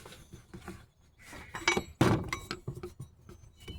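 Metal wrench clinking against a 2003 Ford F150 fan clutch during installation, a few close, sharp clinks and taps in a quiet shop setting.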